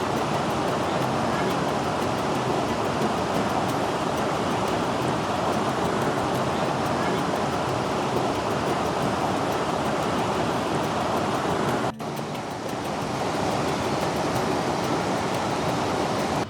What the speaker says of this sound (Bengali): বয়ে চলা রিম্বি নদীর ছন্দ